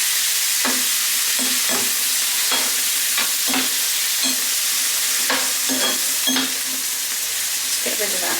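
Spoon stirring fresh tomatoes in a sizzling pan, with a series of sharp scraping knocks against the pan over a steady frying hiss, close and clear.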